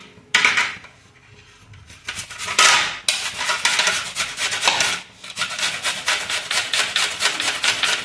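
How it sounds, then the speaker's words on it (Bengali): Onion and tomato rubbed against a metal kitchen grater: loud, close rasping strokes in a steady back-and-forth rhythm, with brief pauses between passes and no talking. "এইভাবে টমেটোটা আর পেঁয়াজটা দুটোই কিন্তু আমি গ্রেট করে নেব।"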